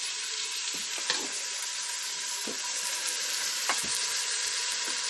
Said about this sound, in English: You can hear it sizzling in there now, and Anthony will come around here and show